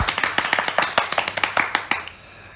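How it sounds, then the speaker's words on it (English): A small group of people claps at the end of a podcast episode, a quick burst of crisp, close hand claps in an uneven rhythm that thins out and stops after about two seconds. "Everybody clap."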